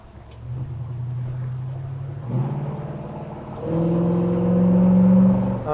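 A 1964 Chevrolet Malibu SS convertible's engine pulls hard through several gears, its steady drone stepping up in pitch with each shift and growing louder toward the end.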